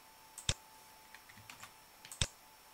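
Two brief keystrokes on a computer keyboard while entering a login name in a Nextcloud setup, quiet and isolated clicks spaced apart with near silence between.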